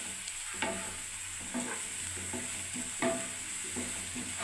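Sliced onions frying in hot oil in a pan until crisp and browned, a steady close sizzle with repeated scraping stirs every second or so, no talking.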